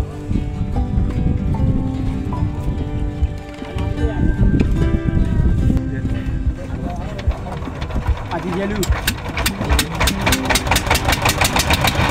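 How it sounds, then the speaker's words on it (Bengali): A shallow pump motor powering a pair of joined river-crossing boats drones steadily with a chugging rumble, while background voices and busy noise blend in. "এই নৌকাগুলো বেশিরভাগ স্যালো মেশিন চালিত।"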